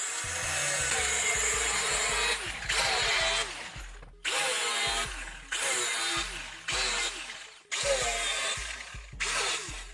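A power tool cuts into a plastic drum in loud, close bursts, roughly five whining runs separated by short pauses, with no voices.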